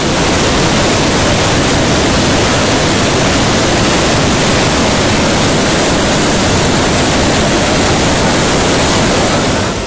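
A 300-foot waterfall thunders down nonstop, a dense, roaring wash of falling water that stays loud and even from start to finish with no voices.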